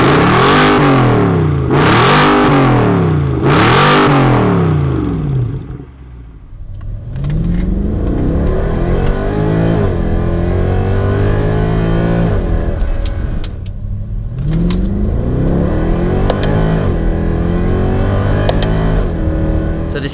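A Mercedes C63 AMG V8 roars through three loud, rising revs, then settles into a sustained throaty growl while driving, with further surges and gear-change dips; a voice is faintly present at times.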